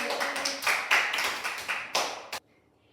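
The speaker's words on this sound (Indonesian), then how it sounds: "Tepuk tangan kita hari ini." A class claps hands together in a school lesson, a burst of quick, uneven claps that slows, with a few louder accents, then stops abruptly into silence.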